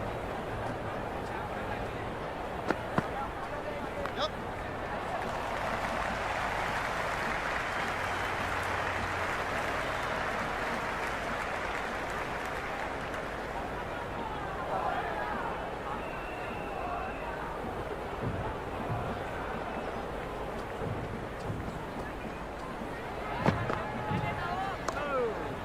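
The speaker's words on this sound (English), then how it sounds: "There's a buzz, a real buzz coming from the stands." Cricket stadium crowd in an IPL video game, a broad, steady hum of many voices from the stands that rises in the middle and sits under ongoing commentary, with a few sharp knocks.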